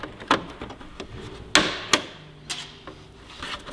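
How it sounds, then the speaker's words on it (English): Fasteners go into Yamaha YZF-R6 race bodywork from 2017 as a handful of sharp plastic clicks and taps, with faint rubbing between them. The sounds are close and there is no talking. "And let's start putting fasteners in."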